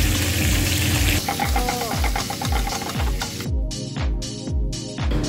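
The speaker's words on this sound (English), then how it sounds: "now we're just going to sear the short ribs of beef, sprinkling the salt" Beef short ribs searing in a hot pan give a steady crackling sizzle, with rhythmic scraping or stirring strokes repeating about every half second close up, no talk.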